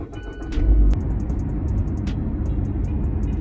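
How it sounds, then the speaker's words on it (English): Car interior while driving to a bagel shop: steady low road and engine rumble throughout, with a brief louder bump near the start and faint ticking clicks above. "So as I'm driving to the bagel place"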